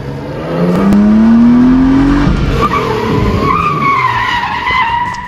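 A drift car skids hard with loud, sustained tire squeal over a revving engine, the squeal rising in pitch and then wavering as the car slides, close and continuous.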